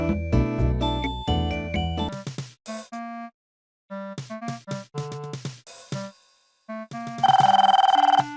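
A telephone rings in the video game Police Quest IV: tonal ring bursts come in several spaced groups between stretches of music, with a sustained loud electronic ring tone near the end. No one speaks.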